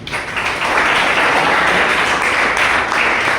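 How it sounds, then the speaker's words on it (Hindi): An audience at a basic training session applauds loudly, a thick, continuous roar of clapping that swells in after the first half-second and stays strong and close throughout. "आप सभी के लिए एक बार जोरदार ताली देनी चाहिए"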